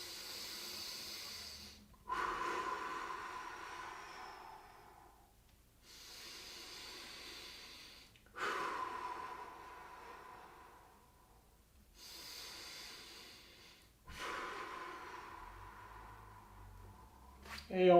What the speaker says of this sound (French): On est parti pour 3 longues respirations.